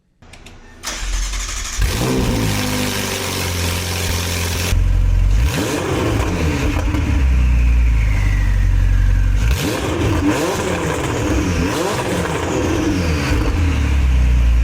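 A Ferrari 488 twin-turbo engine, just rebuilt with its turbos reinstalled, cranks and fires for the first time, then idles and revs in loud, close bursts with the starter whine leading into a steady rumble.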